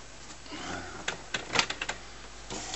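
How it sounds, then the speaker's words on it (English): HP PSC 1510 printer with its door down straining to pull paper through, a series of faint mechanical clicks and clatters over a low hum, growing busier in the middle. "it's trying to pull the paper through, and I've got the door down, so it's struggling to get the paper through"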